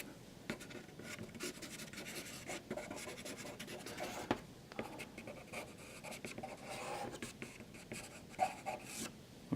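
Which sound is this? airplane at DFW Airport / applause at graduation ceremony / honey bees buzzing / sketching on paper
sketching on paper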